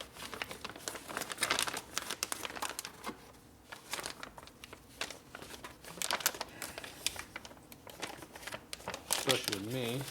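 Crisp plastic crinkling and rustling in bursts, close by, with handling noises and some talking mixed in throughout.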